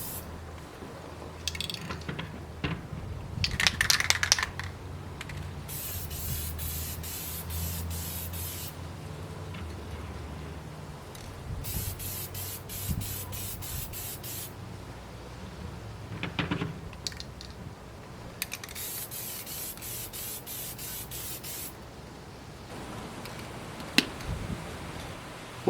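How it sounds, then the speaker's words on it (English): Case lubricant is sprayed from an aerosol can onto .223 brass cartridge cases in bursts of hissing spray, several seconds each, with clinks and handling of the brass between bursts, close and fairly quiet. "Spray a light coat of case lubricant from each of the 4 sides."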